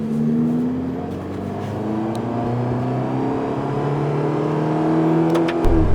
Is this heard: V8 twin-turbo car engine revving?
yes